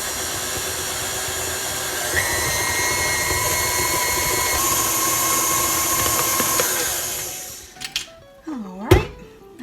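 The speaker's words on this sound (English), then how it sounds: "we're going to mix this for about 2 minutes on medium speed." An electric mixer beats banana nut cake batter at medium speed, giving a steady, loud motorized whir for about seven seconds before it stops and a few clunks and knocks follow.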